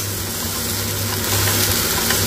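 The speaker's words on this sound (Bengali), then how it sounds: "এটা প্রায় 3-4 মিনিট ভালো করে কষে নিতে হবে।" Tomato, cumin powder, turmeric and Kashmiri chili powder sauté in hot oil in a pan for a Bengali lau ghonto with fish head, giving a loud, steady sizzle with a low hum and stirring underneath.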